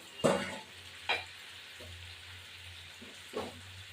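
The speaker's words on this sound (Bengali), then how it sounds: "এবার আমি এই চিংড়ি মাছ এগুলো ভাজা হয়েছে এগুলো দিয়ে দেবো।" Fried shrimp drop into hot oil and spice paste in a wok, giving a few short, sharp sizzling bursts and stirring scrapes separated by quieter pauses, fairly faint overall.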